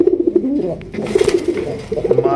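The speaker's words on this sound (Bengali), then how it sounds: "এই যে লাল ভাইয়ের লাল কবুতর ডাকটা আছে, শুধু ডাকটা শোনেন।" A red pigeon calls loudly and close, repeating rhythmic rolling coos in several bursts with brief pauses between them.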